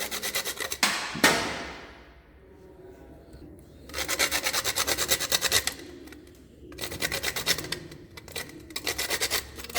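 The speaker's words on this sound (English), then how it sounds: "this is the nutmeg which I have shown you. Just grate it, not the full one, just little of it." Whole nutmeg scraped across a grater in fast, rhythmic strokes, coming in three close bursts of dry rasping with quiet pauses between them.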